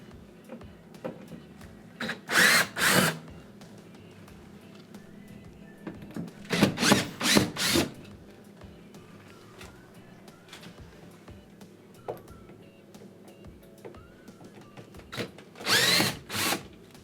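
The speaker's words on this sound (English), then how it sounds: "Next, we want to remove the four mounting screws. They're all Phillips style." A power drill backs Phillips mounting screws out of a Whirlpool oven, sounding as three short, close whirring bursts separated by long pauses that carry only faint handling noises.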